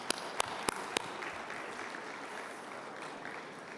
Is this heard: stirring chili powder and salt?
no